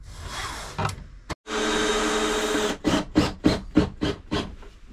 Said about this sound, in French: Ça visse la colonne au sol.